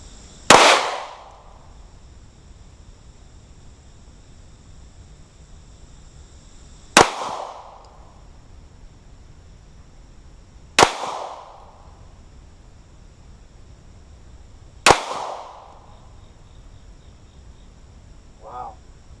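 Four sharp, loud Sig P365 pistol shots ring out at a range, spaced a few seconds apart, each with a short echoing tail over a quiet background.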